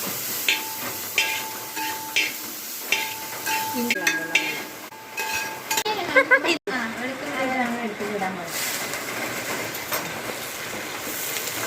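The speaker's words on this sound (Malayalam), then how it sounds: "ഇഞ്ചി വറുത്ത് ഇഞ്ചി വറുത്താണ്ടിരിക്കുകയാണ്" Ginger fries in hot oil for prawn pickle, a steady sizzle with occasional clinks and scrapes of a stirring spoon, while someone talks over it.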